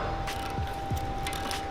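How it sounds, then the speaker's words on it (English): Big 1/2-inch ratchet with a 17mm Allen bit working on a BMW M5 F10 rear axle bolt, a few slow, heavy clicks close up in a quiet garage. "take a 17mm Allen on a big 1/2-inch ratchet"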